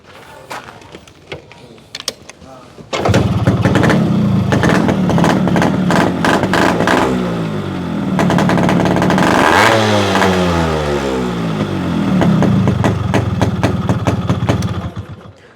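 A Yamaha RX two-stroke motorcycle starts up and is revved hard, its exhaust note loud and close, rising and falling through repeated throttle blips over a steady crackling idle.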